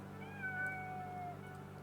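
An upset cat meowing, one drawn-out wavering meow of about a second over a steady low background hum, faint and somewhat distant, with no voices.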